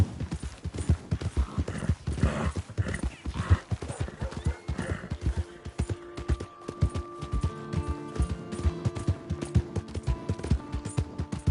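Horse hooves clip-clop steadily in Red Dead Redemption 2, close and fairly loud, with a neigh early on and other game sounds mixed in over the final seconds.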